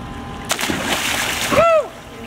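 A child swimming in a pool splashes into the water with a sharp splash followed by sloshing, then a bright voice cries out close by.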